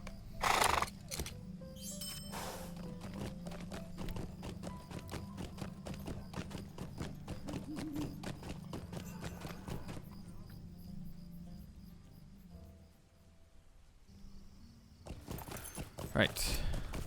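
A mount's hooves clip-clop steadily while riding in the LOTRO online game, with a whinny, a repetitive moderate-volume plod that fades and pauses near the end.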